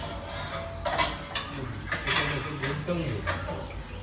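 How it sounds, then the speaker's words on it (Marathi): Dishes being washed at a home sink, with pots, pans and cutlery clinking and clattering in irregular bursts over running water, fairly close. "चला आता घेऊया भांडी धुवायला."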